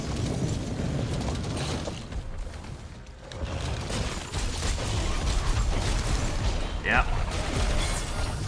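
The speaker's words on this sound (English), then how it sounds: "Oh, explosion, yep." Explosion in the Monster Hunter fight against Fatalis, a loud, dense rumble filling the whole stretch with steady roaring game noise and a brief whistling tone near the end.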